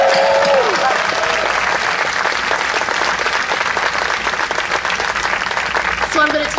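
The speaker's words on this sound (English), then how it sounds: "so can we please cheer them, guys?" A crowd at a pride rally claps and cheers in a steady, loud burst that holds across the whole stretch, with a brief tonal sound near the start.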